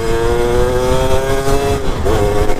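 A Yamaha F1ZR two-stroke motorcycle engine, warm and running on Idemitsu two-stroke oil, revs steadily and loudly with a sustained buzzing tone and a quick blip of the throttle near the end.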